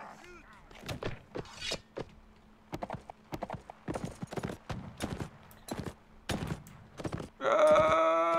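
Horses galloping in combat in the Caribbean! video game, a fast irregular clatter of hoofbeats close by with sharp thuds, followed by a loud whinny at the end.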